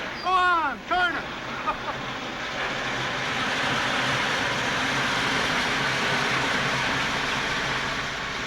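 A steam locomotive's blow-off valve is opened, releasing a steady, broad hiss of venting steam that settles into a continuous rush after a couple of brief voiced sounds at the start.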